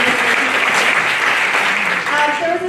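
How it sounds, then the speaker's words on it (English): Steady audience applause at a talk on teen stress, with a voice speaking over the clapping. "Everyone give her an applause for coming up"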